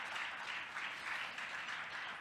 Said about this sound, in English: a quick round of applause for Eva and Chloe and everyone who volunteered to put this together